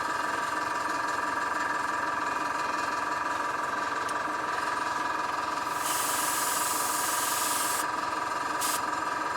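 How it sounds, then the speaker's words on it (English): A small airbrush compressor runs during bowl painting, producing a steady, loud mechanical buzzing hum with bursts of hissing air layered on top partway through. "That noise you can hear in the background is my little airbrush compressor starting up."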